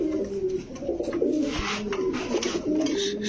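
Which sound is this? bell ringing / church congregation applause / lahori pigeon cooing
lahori pigeon cooing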